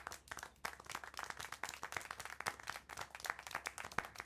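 Clapping in the video game Syberia: The World Before, a few sharp, distinct claps in an irregular rhythm over a low background hum, close and fairly quiet, with no speech.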